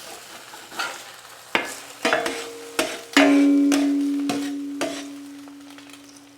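Eggs frying in a pan for a breakfast sandwich, with a few sharp spatula scrapes and knocks against the pan over a low, steady sizzle that swells after one loud clatter and slowly fades.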